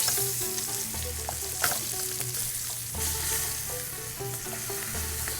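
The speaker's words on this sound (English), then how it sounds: "So I think we're getting a good sear on these." Lamb sizzles steadily in a hot pan while being seared on all sides, a continuous close frying hiss with light stirring and clinks over a low background tone, with no talking.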